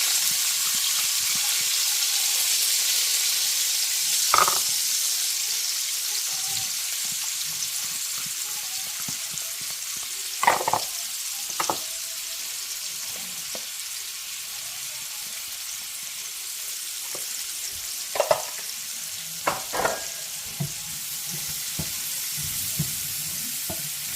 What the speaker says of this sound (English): that grease is like literally popping at me